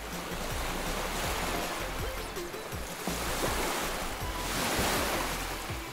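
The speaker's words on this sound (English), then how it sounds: "there's some more water waves though" Water waves wash steadily in a children's cartoon scene, a constant broad rushing surf with faint low rumbles beneath and no voices.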